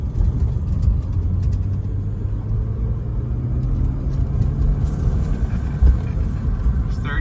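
A 1998 BMW 328is with a 5-speed manual, long parked and just rescued from a salvage auction, drives along with a steady, loud engine rumble and drone from inside the cabin, holding a fairly even tone throughout.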